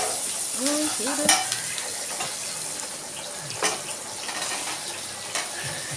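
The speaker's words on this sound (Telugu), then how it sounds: "పావు టేబుల్ స్పూన్ అల్లం వెల్లుల్లి పేస్ట్ వేసుకొని పచ్చి పచ్చి వాసన పోయే వరకు వేయించుకోవాలి" Ginger garlic paste frying in a pan while being stirred, a steady close sizzle with scraping strokes of a utensil against the pan and a few sharper clinks.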